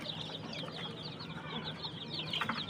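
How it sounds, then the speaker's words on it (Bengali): Desi chickens on a poultry farm cluck softly and steadily, a faint chorus of clucks and short calls from several hens close by, with no talking. "তো এইখানেও আছে প্রায় 50 পিস প্লাস দেশি মুরগি, প্লাস 7 পিস সিল্কি মুরগি"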